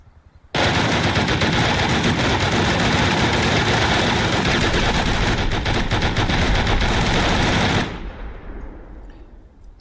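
M2 turrets on a base in the survival game Rust fire a loud, unbroken burst of rapid machine-gun shots for about seven seconds, then stop abruptly and leave a short fading echo.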